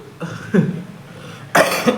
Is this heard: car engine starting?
no